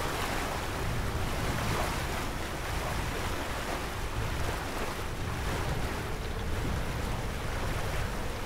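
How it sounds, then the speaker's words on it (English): Constant wind and breaking waves in the Sailaway sailing simulator game, a boat sailing in about 26 knots of wind; a steady, full rush of surf and gusting air fills the whole stretch with no voices. "The wind just picked up to about 26 knots."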